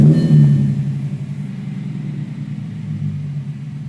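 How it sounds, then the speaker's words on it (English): A car with its fuel pump unplugged during a fuel pump installation runs with a steady low engine rumble, a louder burst at the start settling into a constant idle, close and alone without talk. "So you'll start your car up."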